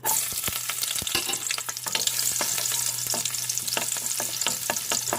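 Garlic and ginger fry in a pan for a Filipino laing with pork, a steady close sizzle with repeated sharp scraping clicks from stirring throughout, and no talking.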